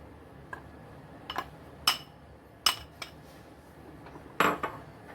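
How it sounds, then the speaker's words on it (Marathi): A spoon scrapes and knocks against a pan as powder is stirred into a sweet mixture with the heat turned off, several sharp metallic clinks spaced irregularly, close but fairly quiet. "आता हे छान आपण एकजीव करायचं सगळं मिक्स मिक्स करून घ्यायचं आपल्याला एकत्र"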